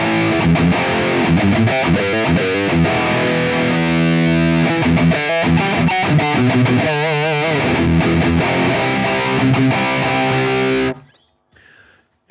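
Electric guitar run through an Audified Multidrive Pedal Pro plugin set for a Boss Metal Zone MT-2 style tone, played as a continuous stream of distorted chords and melodic lines for about eleven seconds before cutting to silence.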